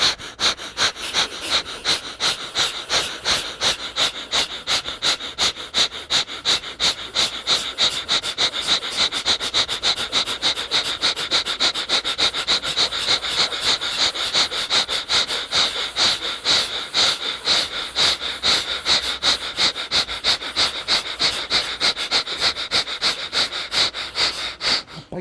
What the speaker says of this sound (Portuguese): Que é aquela acelerada que eu gosto de abrir a narina aqui para entrar mais ar e sair